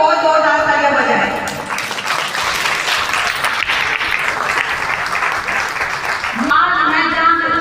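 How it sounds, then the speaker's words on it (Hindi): Loud, sustained clapping from the audience at a BJP women's rally in Mehrauli, a dense wash of applause lasting several seconds between stretches of someone speaking over a microphone. "तो उसके लिए आप अपने लिए बहुत जोरदार तालियां बजाएं।"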